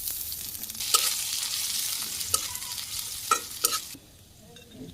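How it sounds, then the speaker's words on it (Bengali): Chopped garlic and ginger sizzle in hot oil for a rohu fish and tomato dish, with a steady hiss and a few sharp spatula scrapes and clinks. The sizzle drops away abruptly near the end. "এই যে পেঁয়াজ করে রসুন আর এই আদা ভাজি করা হয়েছে"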